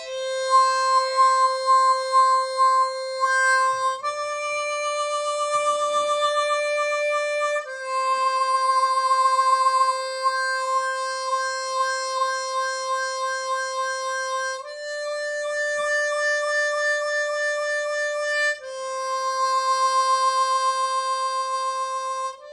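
A C harmonica alternates between blowing and drawing on channel 4, with hands cupping the instrument to create a wavering tremolo. Long sustained tones switch back and forth several times, close and clear, with no voice.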